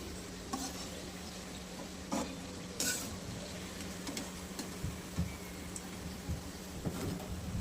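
Small pieces of sweet dough made from wheat flour and jaggery fry in hot oil with a steady, soft sizzle, broken now and then by brief stirring clicks and utensil taps, with no one talking.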